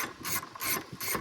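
A hand ratchet turns out a 10mm screw holding body trim on a 1996–2002 Toyota 4Runner, three crisp bursts of rapid clicking separated by brief pauses, close and alone.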